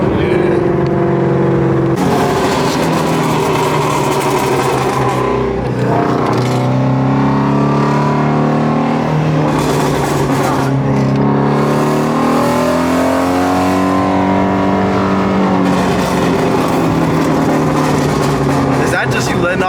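A Shelby GT350R running on E85 pulls hard with loud, rising engine revs through several gear changes, then the throttle lifts and the note drops and crackles, heard from inside the car as people talk over it.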